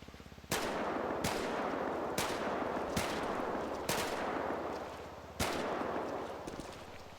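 In a GTA roleplay shooting course, video game gunshots fire at a steady pace of about one per second, each followed by a decaying echo tail.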